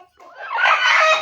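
A rooster at a poultry sale, crowing once, close and loud, a single drawn-out call rising after a brief quiet start.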